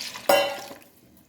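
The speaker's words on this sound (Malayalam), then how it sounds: "ഇനി ഞാൻ 1/2 കപ്പ് വെള്ളം കൂടി ഇതിലോട്ട് ഒഴിക്കാം." Water splashes into a cooking pot of mutton yakhni pulao in one short pour, a sharp onset that fades quickly to quiet.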